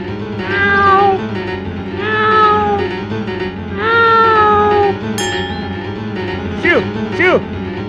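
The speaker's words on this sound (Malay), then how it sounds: "kucing." A cat meows several times in drawn-out, wavering cries, close and loud, with a few shorter chirps near the end and faint background voices.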